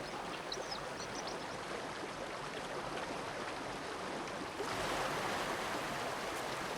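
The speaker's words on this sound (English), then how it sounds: "Meltwater also swells mountain streams." Alpine mountain stream swollen with meltwater rushes in a steady, dense broadband roar, close and constant, growing slightly louder partway through, with a few faint bird calls early on.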